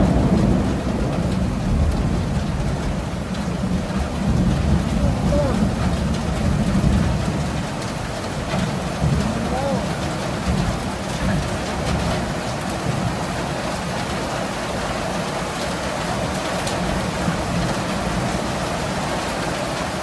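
Steady heavy rain pours down, a dense continuous hiss with low rumbling underneath, with no talking.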